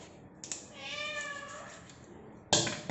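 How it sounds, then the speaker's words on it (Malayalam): A house cat meows close by, first one long drawn-out cry and then a sharper, louder call after a brief pause. "ഒരു പൂച്ചയുണ്ട്,"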